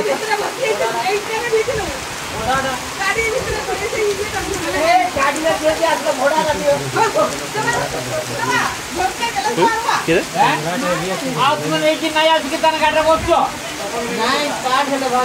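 Heavy monsoon rain pours down in a dense, continuous roar with splashing and hissing throughout, while voices talk over it.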